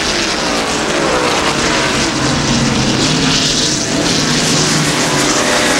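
Race car engine roaring loud and steady at close range during the 1991 Banquet 300, a continuous dense drone under hard acceleration with no talk.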